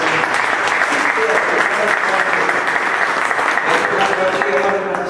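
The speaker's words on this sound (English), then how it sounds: "very proud to applaud him" Sustained applause from a lecture audience at a cyber crime awareness talk, loud and dense clapping filling the whole stretch with no break.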